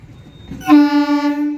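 A loud train horn blares after a short stretch of low rumble, holding a steady tone with slight pulsing for about a second.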